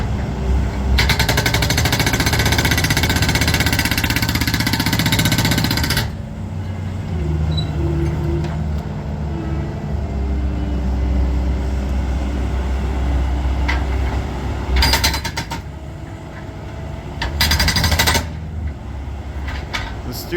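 Loud, rapid hammering bursts of a jackhammer breaking concrete, running steadily at first, then returning in short blasts over a low rumbling background.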